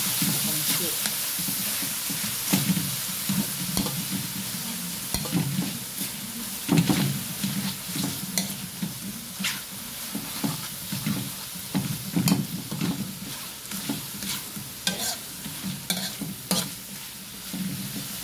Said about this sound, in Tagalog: Nagdudurog tayo dito para lumasak sa pansit.